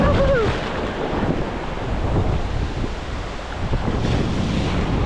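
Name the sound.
waves in shallow sea while fishing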